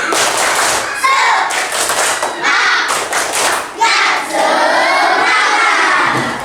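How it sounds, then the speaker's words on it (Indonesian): A class of fourth-grade children does a loud spirit clap, rhythmic hand claps and thumps mixed with shouted chanting voices, in bursts that stop and restart. "Tepuk semangat"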